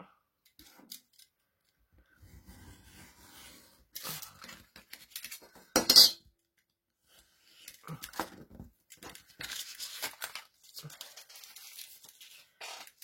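Scissors snip away the surplus paper edge of a manga-style scrapbook album, a run of short crisp cuts and paper rustles with quiet gaps between, close and fairly soft.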